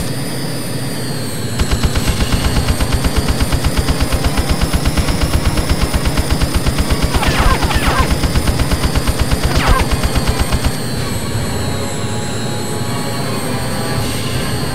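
Rapid, sustained aircraft cannon fire from an F-16 in the PS1 game Eagle One: Harrier Attack rattles for several seconds over a steady jet engine roar, then stops while the engine keeps droning.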